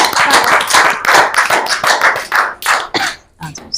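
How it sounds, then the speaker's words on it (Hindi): Audience applause welcoming a young woman poet to the stage at a Hindi poetry recital: dense, loud clapping from a crowd that swells and then thins out toward the end. "जोरदार तालियों से अभिनंदन करें अर्चिता मुंडरा।"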